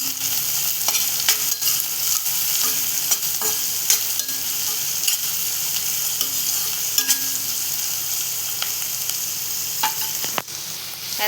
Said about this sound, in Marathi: कांदा आपल्याला नरम करून घ्यायचा.